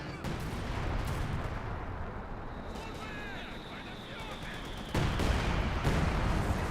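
Rumbling 120mm mortar shell impacts and gunfire in the Company of Heroes 2 battle game, with a heavier blast near the end, all under continuous spoken commentary.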